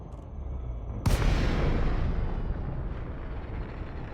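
A sudden loud blast of weapons fire in an Elite Dangerous space battle against Thargoids, hitting at once and then rolling on as a long, dense rumble that slowly fades.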